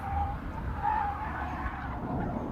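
The supercharged engine of an Eagle Low Drag GT drones on a test track, joined by a brief high tire squeal as the car is pushed through a corner at the edge of grip.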